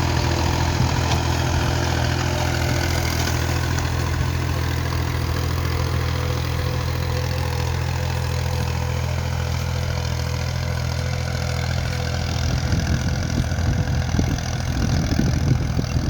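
A tractor engine runs steadily in a field at sunset while sowing toria seed, a loud, continuous low rumble and drone throughout, with a rougher, throatier stretch toward the end.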